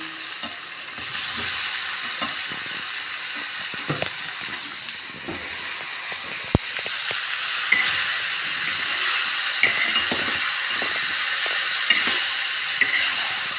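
Cauliflower and potatoes fry with ginger paste in a hot pan, a loud continuous sizzle with steady hiss and scattered scraping clicks from stirring, no voices over it.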